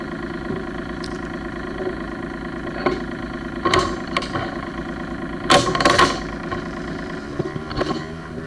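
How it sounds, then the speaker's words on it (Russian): Sailboat's inboard engine starting after two weeks idle and settling into a steady idle, a low rhythmic chugging with a few louder knocks and clanks over it, close by. "После двухнедельного простоя двигатель заводится облаком дыма."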